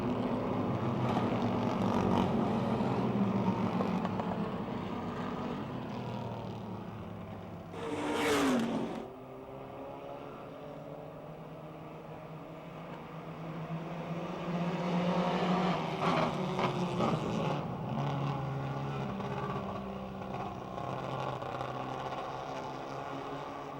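Stock cars race around Motordrome Speedway, a continuous loud roar of several engines that swells as cars pass close and then fades slightly into the distance.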